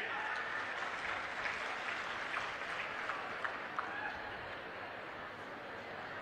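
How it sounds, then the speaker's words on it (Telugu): Farmers at a political rally with Andhra Pradesh Chief Minister Chandrababu Naidu applaud as a faint, distant, steady patter of clapping from a large outdoor crowd. "రైతులు గట్టిగా చప్పట్లు కూడా చెప్పండి"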